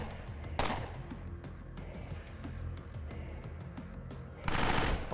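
Automatic turret in the Underrail game firing a steady stream of rapid shots, with two louder, broad bursts standing out near the start and end over a busy combat backdrop.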